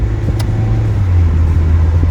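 A 2020 Mazda MX-5 Miata rental, top down, drives hard through a corner at a light with a steady loud engine drone that rises slightly as it shifts gears, plus road rumble and a brief short tick near the start.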